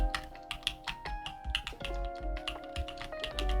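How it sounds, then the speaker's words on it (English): Rapid typing on a computer keyboard, with quick, close, uneven taps mixed with tonal music. "This is how I used to type."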